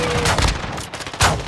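Gunfire in the Call of Duty DMZ video game comes as loud, close bursts of shots at the start, then a sharp report near the end after a brief lull.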